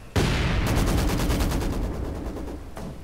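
Maxim machine gun and mortar fire in Company of Heroes 2: a sharp opening blast followed by a dense, rapid rattle of automatic fire that runs loud for over two seconds, then a final distant thump.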